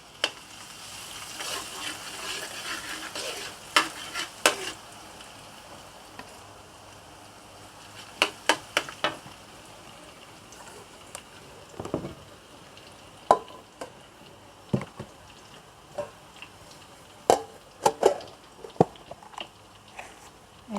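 Garlic goes into hot oil for a seafood rice noodle dish, with a soft continuous sizzle broken by sharp clicks and pops of stirring utensils against the pan, all fairly quiet.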